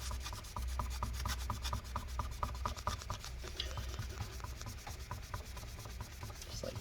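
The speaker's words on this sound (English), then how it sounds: "And then just kind of wipe off wherever you see the residue." A cloth soaked in solvent wipes adhesive residue off a 13-inch MacBook Pro A1708 (late 2016 to mid 2017) during battery replacement, making quick, rhythmic rubbing strokes close by that slow and fade partway through.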